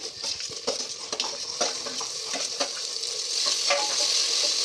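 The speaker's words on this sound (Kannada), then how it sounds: "ಅದಕ್ಕೆ ಚೆನ್ನಾಗಿ ಎಣ್ಣೆನಲ್ಲೇ ಬೇಯಿಸ್ಕೊಳ್ಳೋಣ ತುಂಬ ಫ್ರೈ ಆಗಿದೆ ಈಗ ಟೊಮೆಟೊ ಹಾಕೋಣ" Onions fry in oil in a pan for egg biryani, a steady close sizzle broken by the scrape and clink of a spoon stirring, growing slightly louder toward the end.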